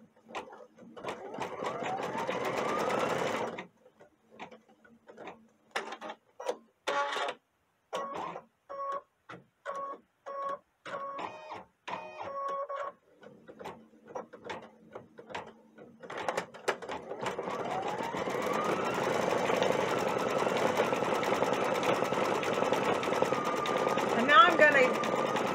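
Brother embroidery machine stitching a Mickey Mouse design, a fast rhythmic mechanical chatter that starts and stops in short bursts before settling into a steady run, close and moderately loud.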